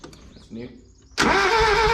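A 1984 Mazda truck, a small U-Haul-style unit, has its engine cranked and started. A brief voice and a quiet pause come first, then the engine catches with a sudden loud, close roar that holds steady.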